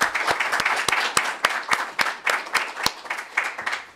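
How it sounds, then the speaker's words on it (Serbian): Audience at a conference in Belgrade applauding for visitors from Kosovo and Metohija, a dense, steady wash of many hands with a few sharper nearby claps standing out, continuous and fairly loud, with no voices over it. "I ja vas molim na početku da ih pre svega pozdravimo jednim aplauzom"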